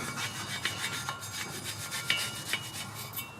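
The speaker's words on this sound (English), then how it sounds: "I'm going to go over this tub a little bit with the wire brush" A wire brush scrubs surface rust from the brake part on the front of a GMC 2500 HD Denali four-wheel-drive truck. The strokes are rapid and raspy and come in a steady rhythm at close range, with no one talking.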